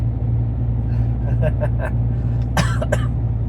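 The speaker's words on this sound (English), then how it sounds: "As you can also see, I've got a cough." A few short, rough coughs break out over a constant low engine rumble inside a vehicle.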